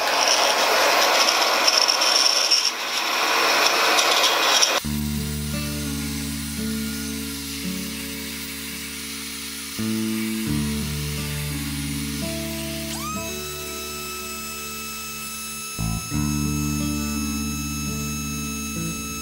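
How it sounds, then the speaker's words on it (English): A vacuum forming machine hums with steady tonal whines, pitch shifting several times as the vacuum pulls plastic down and seals, with a brief noisy blast at the start. "The change in pitch is when the vacuum actually starts pulling the plastic down and seals up the opening."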